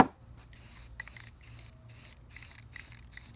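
Rust-Oleum metallic bronze spray paint hissing onto shed vents in about seven short, even bursts separated by brief pauses, close and fairly quiet.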